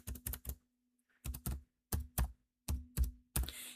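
Someone types on a computer keyboard, with crisp keystrokes coming in short clustered bursts separated by brief pauses. The clicking is close and clear, with no one talking.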